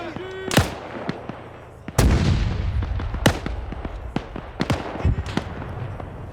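Artillery fire called onto an enemy position in a military video game, several loud close booms with rolling rumble and sharp crackling reports in between, under faint voice chatter.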